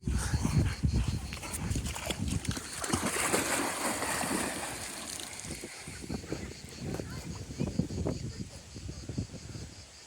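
A dog barks at a riverside holiday spot in the Ardèche, with water splashing and boat or paddle noise around, while people talk nearby throughout.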